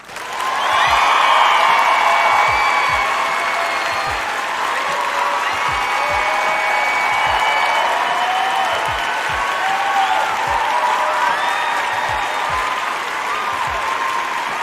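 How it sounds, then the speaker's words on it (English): Sustained applause from a crowd fills the space at an even, loud level, with scattered higher whistles mixed in throughout. "Round of applause"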